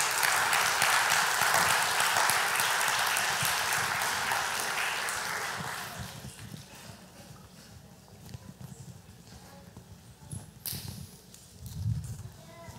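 A church congregation applauds with full, sustained clapping that gradually fades after several seconds, leaving scattered lighter claps and room noise.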